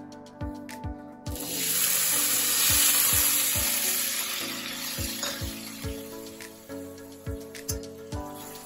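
Diced potatoes for sabudana khichdi fry in ghee in a pan, a loud hiss that surges and fades, punctuated by a regular series of sharp spoon knocks and scrapes against the pan.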